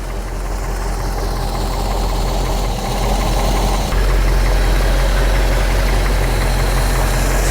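A classic Mercedes-Benz with a leaky engine settles into a steady, close idle, a constant low rumble and mechanical clatter with a slight lift in level partway through; no voices.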